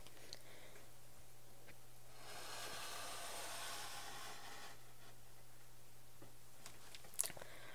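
A mat cutter blade drawn steadily through mat board while framing artwork, a quiet sustained scraping hiss lasting a couple of seconds, over a faint steady hum, with a small sharp click near the end.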